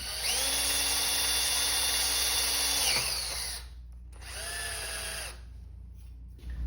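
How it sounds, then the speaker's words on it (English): A drill bores out a small M5 hole in aluminum on a Craftsman 109 lathe, opening it for an M6 tap: a loud, steady high-pitched whine for about three seconds, then a quieter second run after a short pause. "So I'm going to open that up and tap it for M6."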